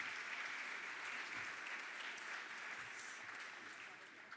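Sustained applause from an audience at the opening session of the European Funds exhibition in the Convento de São Francisco, Coimbra, a steady broadband patter lasting throughout at moderate, fairly distant level.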